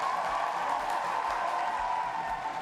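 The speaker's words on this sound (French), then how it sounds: "Et ça s'applaudit, s'il vous plaît." Sustained, dense applause from an audience at an Ivorian music television show, steady and even throughout with no distinct individual claps standing out.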